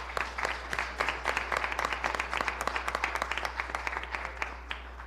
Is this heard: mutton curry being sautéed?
no